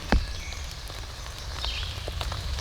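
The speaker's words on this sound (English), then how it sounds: "But the rain's picking up here." Rain falls outdoors on a spring evening in the woods, a soft, steady patter with scattered drops and a sharp knock near the start, moderately quiet throughout.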